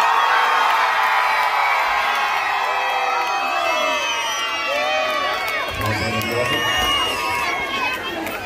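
A festival crowd at a Shri Ganesh Mahotsav in Navodaya Nagar shouts and cheers loudly, with whoops and children's yells forming a dense, sustained roar, while voices call out over it.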